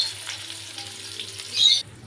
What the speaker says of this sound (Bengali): পেঁয়াজটা দিয়ে আমি এটা মিনিট 3 মতন নেড়ে নেব যাতে নরম হয়ে যায়